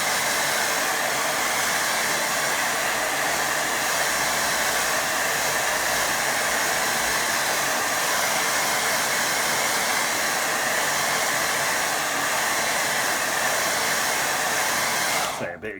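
A hair dryer blows steadily over wet watercolour paint, a loud, unbroken roaring hiss that holds level for about fifteen seconds before cutting off at the very end.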